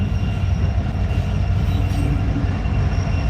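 A Norfolk Southern train passes close by in Alabama with a loud, steady low rumble of rolling railcars and a faint wheel squeal on top. No one speaks.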